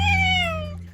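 A cat lets out a single clear, drawn-out meow that slides gradually downward in pitch, close and loud, with a low steady hum underneath.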